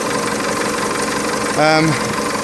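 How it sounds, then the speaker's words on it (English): A Mercedes C220 CDI diesel engine idles with a clattery, steady drone, close by, with a brief voice rising over it partway through. "all back together, runs again. Sounds like the same old clattery shit it always did"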